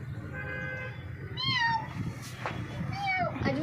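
A cat meows several times in short rising and falling calls, close by, while a person talks over a steady background hum.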